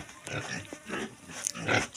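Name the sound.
pigs grunting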